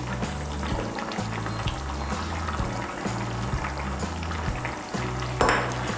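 Steady, close sizzling and stirring of a curry in a pan as slit green chilies and garam masala paste of cardamom, clove and cinnamon go in for vegetarian soybean kofta curry, with a soft rhythmic musical backing underneath and no talk.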